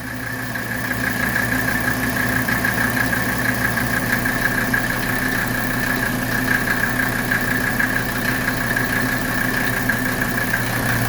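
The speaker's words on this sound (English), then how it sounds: "the car's running, the AC is on full blast" A 1981 Mercedes 300SD diesel idles with its air conditioning running on full, a steady, even drone with a constant hum and no change in pace, heard close up with no talk.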